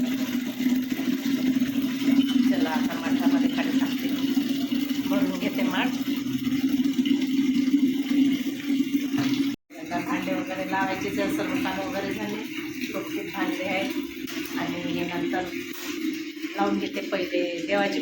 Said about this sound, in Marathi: आता मी पाणी काढून घेते